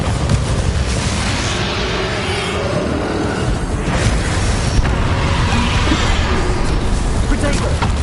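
Bombarda blasting spell going off in Hogwarts Legacy, a dense, sustained roar of booming explosions and rumbling debris that stays loud throughout, with a sharper burst near the middle.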